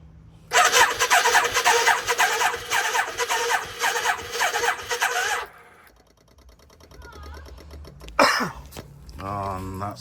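A Yamaha Virago 535 motorcycle's starter grinds over on a weak battery in a dense burst of about five seconds, then cuts out, leaving quieter clicks and brief noises.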